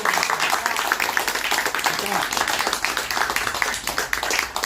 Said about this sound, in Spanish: Yo por la un aplauso